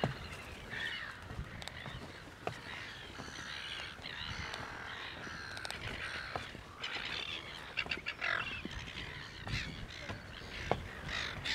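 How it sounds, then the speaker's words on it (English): A busy chorus of birds calls continuously from nearby bushes, with harsh caws and overlapping chirps and squawks, and no talking. "many birds were hiding in the bush and making different noises"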